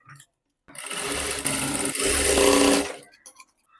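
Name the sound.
sewing machine stitching blouse shoulder seam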